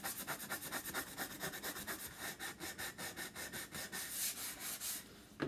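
A block of wood is sanded by hand with quick, rhythmic back-and-forth strokes, close and steady, forming a continuous scratchy pulse with no speech.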